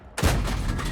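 Tank cannon shot in a World of Tanks–style game, aimed at a T-34: one sharp, loud blast with a booming low-end tail that rings out for under a second.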